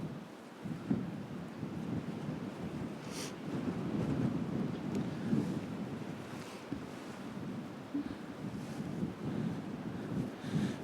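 Outdoor wind rushes and buffets against the microphone while someone walks, a steady low roar with gusty swells and no talking.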